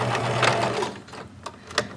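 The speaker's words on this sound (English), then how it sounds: "So line it up to the 1, foot down, stitch or 2, reverse back, sew to the edge." A sewing machine stitches skirt seams with a rapid, close mechanical whir, running steadily, slowing to a pause, then giving two short bursts near the end.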